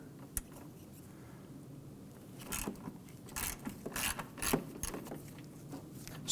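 A ratchet with a short extension spins out a hood hinge bolt on a 2015-2020 Ford F-150, giving a series of close, quick clicking bursts after a quiet start, with a few metallic taps between them.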